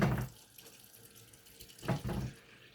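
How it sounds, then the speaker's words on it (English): Tap water runs into a bowl in a kitchen while masa is being made for tamales, a gushing burst at the start and another near the end, close by with quieter gaps between. "Get a bowl of water."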